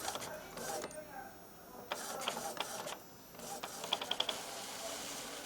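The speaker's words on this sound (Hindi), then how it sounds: "ये देखिए, नोजल चेक का प्रिंट दिया है मैंने।" An Epson inkjet printer running a nozzle check print, with soft mechanical whirring and a quick series of clicks and ticks from the print head carriage, fairly quiet and close.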